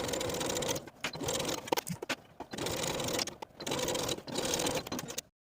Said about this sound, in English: sew both side seams with a 1/2 inch seam allowance